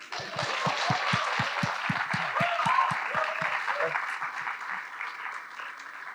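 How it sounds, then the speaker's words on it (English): An audience applauds at a literature festival in Bangalore, giving a big round of dense, sustained clapping that stays strong for several seconds and then gradually thins out and fades. "That's a big round of applause."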